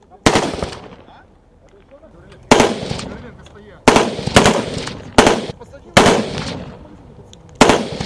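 Small arms gunfire at a military shooting range, with about seven sharp loud single shots spaced irregularly, each followed by a rumbling echo that fades before the next.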